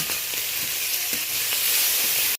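Tiger prawns coated in salt and turmeric fry in hot oil with panch phoron and green chillies, a steady close sizzle hissing evenly without talk before cutting off.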